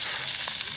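Steady, close sizzling of sausages frying in a pan at a campsite, a bright continuous crackle and hiss with no voices.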